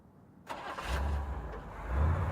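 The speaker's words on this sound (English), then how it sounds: "Then a car starting." A car engine cranks and starts in a garage after the door goes up, then settles into a steady low idle that swells slightly louder toward the end, close by and alone.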